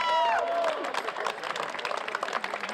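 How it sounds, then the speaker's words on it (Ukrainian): An audience at a school 3x3 basketball league award ceremony breaks into applause, a dense patter of clapping from a crowd that follows a brief voice at the start and continues steadily at moderate loudness. "Оплески."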